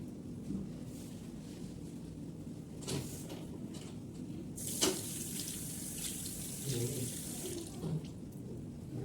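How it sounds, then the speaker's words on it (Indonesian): Hands being washed in a clinical lab setting under a steadily running tap, with continuous hissing water splashing into a sink, a few soft knocks and clatters, and no talking. "cuci tangan menurut menggunakan WHO"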